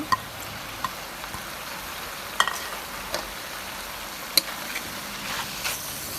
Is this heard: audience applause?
no